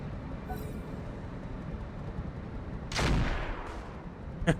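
Turret fire in the mech combat game Roguetech: a loud burst of gunfire-like blasts erupts around the three-second mark over steady background rumble, with a further faint report near the end.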